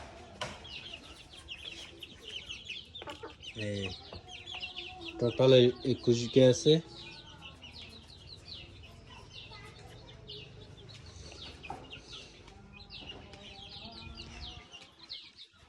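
Country chicken chicks cluck and cheep in short bursts throughout, loudest in a cluster near the middle, with a person speaking softly in between.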